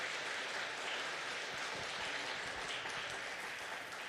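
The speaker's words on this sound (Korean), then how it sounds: "일어서시면 환영의 박수 드리겠습니다" Church congregation applauding to welcome newcomers at a Korean Presbyterian Sunday service, a steady wash of clapping filling the room for several seconds with no talk over it.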